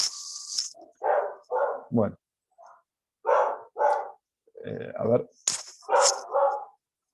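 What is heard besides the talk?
dog barking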